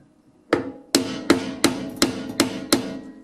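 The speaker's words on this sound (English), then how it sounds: "a few tops of the old hammer maybe will help it out" Seven sharp metallic hammer taps on a garbage disposal mount ring out at a steady rhythm, close and loud, each with a brief ringing decay and no voices.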